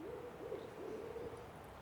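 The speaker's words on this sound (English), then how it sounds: "What type of owl is that? a barred owl." A barred owl hoots in a cypress dome in the Everglades, a short run of several rising and falling hoots, moderately clear against a soft ambient background.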